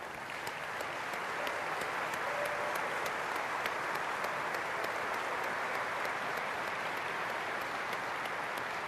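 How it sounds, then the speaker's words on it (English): A large conference audience at a general session gives a long, steady round of applause, with dense clapping from start to finish and a faint distant quality. "I'd like to give you a big round of applause"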